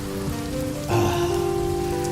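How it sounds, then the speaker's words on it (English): Hard rain pours down, with raindrops pelting the ground in a steady, loud wash that thickens after a brief rise, close by and with no voices. "The rain was coming down like a commandment. Bang, bang, each drop that hit the earth."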